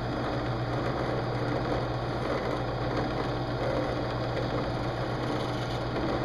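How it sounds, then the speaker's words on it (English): An electric drill bores a hole in a Katana machete handle, a steady, continuous motor whir with a buzzing, vibrating edge that holds the same level throughout. "Just drilling a hole"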